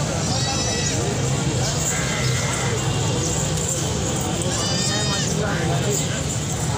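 Goats and other livestock bleat at a busy livestock market in Karachi's Lalukhet area, calls rising twice over a constant crowd din with people talking nearby.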